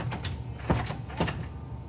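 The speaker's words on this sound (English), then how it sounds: "The door is now locked, and you need the code to come in." A commercial storage room door closes and locks with a couple of sharp mechanical clacks and latch clicks, close and moderately loud over a quiet room.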